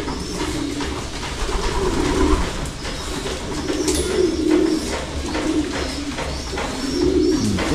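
Male pigeons coo continuously in low, throaty rolling calls, several birds overlapping close by with a dense murmur beneath.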